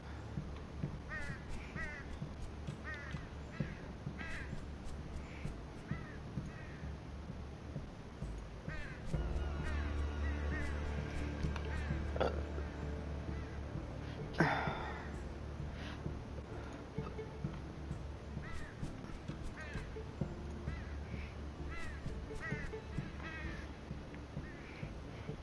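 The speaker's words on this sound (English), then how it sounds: "they're fucking crows" Crows cawing in the yarn-themed platformer Yarny, repeated caws scattered across a steady game soundscape with a denser, louder stretch in the middle.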